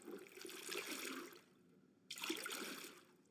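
Running water splashes in two short bursts while clothes are washed in a survival video game, a soft, fairly faint gush with a brief pause between.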